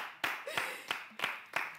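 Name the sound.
audience clapping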